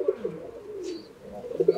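A medium-sized racing pigeon coos in a loft, soft low rolling calls repeating at the start and end with a faint brief chirp between, close and alone without talk.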